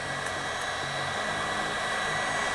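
A heat gun blows a steady, loud, close whooshing stream of hot air onto a silicone mold before a resin pour, with no talking.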